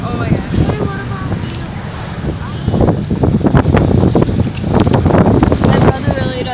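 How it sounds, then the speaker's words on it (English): Strong wind roars steadily into the microphone, buffeting it with rumbling gusts that swell in the middle and stay loud throughout, with no clear voices. "it's getting really windy right now"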